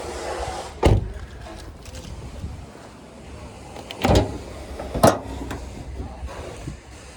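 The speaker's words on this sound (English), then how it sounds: "I'll just pop the bonnet here," A 2016 Toyota RAV4 GXL has its bonnet released and lifted, with a few distinct thuds and clunks of the latch and panel spaced over several seconds against a quiet background.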